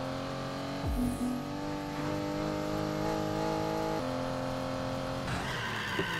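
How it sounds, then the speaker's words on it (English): An Aston Martin races around a circuit in NFS Heat, its engine droning steadily while tires skid and squeal near the start, with a shift in engine pitch later on. "test out my Aston Martin"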